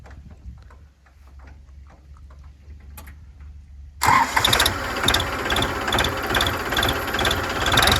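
A Farmtrac 45 tractor sits idling at low volume for a few seconds, then its engine catches and roars into loud, steady diesel running that stays strong right to the end.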